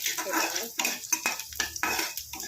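Peanuts roasting in oil for poha, stirred with a spoon in a pan at close range, giving repeated metallic clatters and scrapes in uneven bursts over a soft frying hiss.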